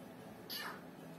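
A short synthesized cat meow from an Amiga video game, a single brief cry standing faintly over a steady electronic background hum.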